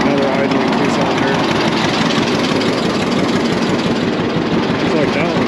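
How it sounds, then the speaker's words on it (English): Two-cylinder tractor engine idling at a tractor pull, a steady loud low rumble running throughout amid outdoor crowd noise, with faint voices in the background. "Another idling 2-cylinder."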